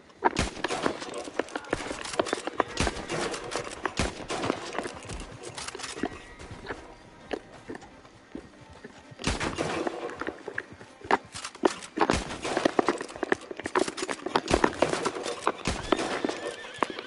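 A horse in a video game walks with repeated clip-clopping hooves and lets out loud neighs and whinnies, the hoofbeats coming in bursts with quieter gaps between them.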